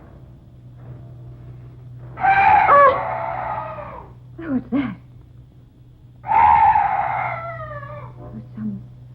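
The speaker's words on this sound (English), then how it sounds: "Oh, some night birds." Eerie night birds call in a dark fantasy setting: two long, wavering, howl-like cries, with a brief voice speaking and a couple of short chirps between them, over a low steady hum.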